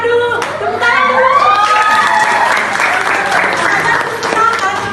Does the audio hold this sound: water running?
no